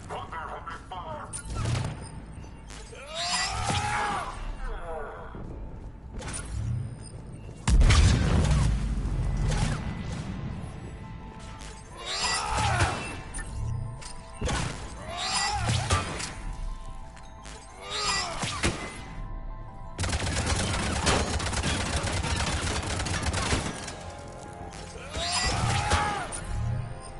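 Bursts of gunfire and impacts in the Mass Effect 3 Legendary Edition video game come in scattered clusters, some loud and close, amid people talking and game ambience.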